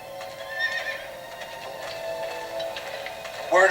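A horse whinnies and its hooves clip-clop in a Game of Thrones video game scene, moderately loud over a quiet ambient backdrop, with a sharper burst near the end.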